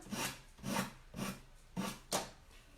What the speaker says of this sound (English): you can actually sand the edge nice on the corner.